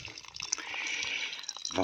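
Water from a spring-fed tank drains through a pipe, giving a soft, close trickle and gurgle with dripping, while a person talks over it.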